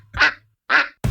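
Two loud, nasal duck quacks come from a sound effect, spaced about half a second apart, then a third burst starts at the very end.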